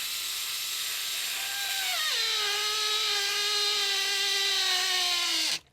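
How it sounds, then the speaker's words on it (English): Screw driven into the plastic body of an RC Toyota FJ, giving a continuous squealing, whining tone that drops in pitch partway through and then stops abruptly, close and clear. "that noise is the plastic biting, which is what you want"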